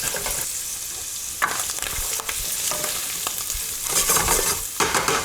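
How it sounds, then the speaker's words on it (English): Canned chickpeas sizzle and crackle as they warm in a pan. The sizzle is close and steady, with louder bursts and scraping where they are stirred, and no talking. "I want to see some sizzling and make sure that the chickpeas are warmed through."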